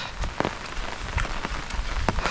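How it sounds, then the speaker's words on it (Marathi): Heavy monsoon rain pours steadily on surfaces outdoors near a house in flooded Konkan countryside, a dense continuous hiss with scattered louder drops and splashes, no talking. "पावसान मात्र जोर केला ना 3-4 दिवस"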